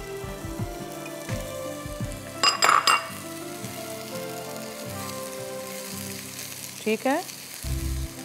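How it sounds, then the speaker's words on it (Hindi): Chopped onions and garlic sizzle steadily in a hot pan, close up, with bursts of metallic clinks and scraping from stirring, and a brief spoken word partway through. "यहाँ हमारी प्याज को हमें सिर्फ सॉटे करना है, कुछ भी इसको आपने ब्राउन वाउन नहीं करना है।"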